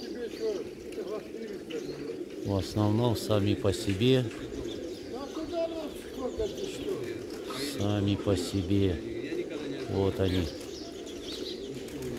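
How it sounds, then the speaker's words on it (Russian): A flock of double-crested pigeons flying overhead gives soft, repeated cooing and chirps, while someone talks over them almost throughout. "Голуби летают."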